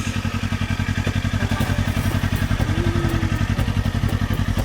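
A motorcycle engine idles close by with a steady, fast thudding pulse and some mechanical clatter as the bike is parked beside a mountain near the Yume no Tsuribashi suspension bridge in Japan.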